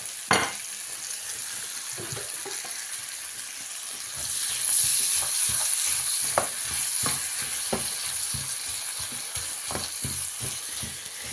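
Cheap bacon and onion frying in a pan, a continuous close sizzle that swells midway, punctuated by repeated scraping stirs and clacks of a utensil against the pan.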